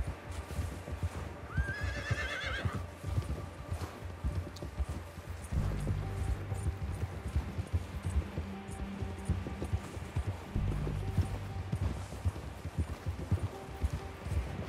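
A horse in Red Dead Redemption 2 gives a whinny early on, then its hooves keep up a steady, close clip-clop rhythm over a low rumbling game ambience for the rest of the stretch.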